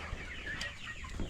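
Improved Kienyeji chicks clucking and peeping softly, a few brief calls scattered over a steady low rustle, close by with no talking.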